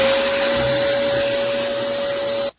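A YeeSite 800W snow machine runs outdoors with a loud, steady, vacuum-like whir and a constant high-pitched motor whine, heard close up and alone, then cuts off abruptly.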